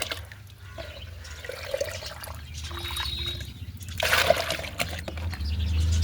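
Water tipped from a mug into a 5-litre bucket half full of water on a rooftop garden, a steady trickling pour and splash, with a louder gush near the end.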